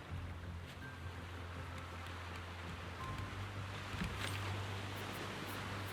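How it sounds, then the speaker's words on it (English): Steady rain falling in the survival game Raft, a soft, even hiss of drops with a low hum beneath, faint and continuous for several seconds, no talk. "think it's gonna rain. Yep, it's gonna rain."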